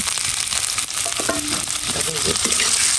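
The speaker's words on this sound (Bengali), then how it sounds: "মাছটা তেলে ভেজে নেবে হালকা করে" Fish fries lightly in hot oil in a home kitchen, a steady close sizzle with faint stirring and scraping noises throughout.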